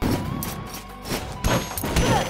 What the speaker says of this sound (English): Oh, stupid cannons!